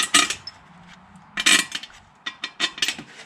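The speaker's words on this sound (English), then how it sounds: "I'm going to drop all the bolts in, snug them" Metal intake bolts for a 2003–2007 Honda Accord V6 dropped into place and started by hand, a few sharp clinks and rattles in separate bursts, close and fairly loud, with no talking.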